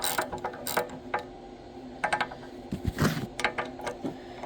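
A wrench or ratchet clicks and cranks on tight bolts of a Chinese diesel engine, sounding as close, sharp bursts of ratcheting with gaps between them and a heavier metallic strain in the middle.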